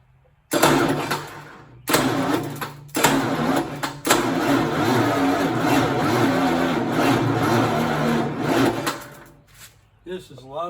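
A Detroit Diesel 12V92 engine, a heavy V12 two-stroke diesel, catches and runs with a loud, steady roar after a few short bursts, then cuts out near the end.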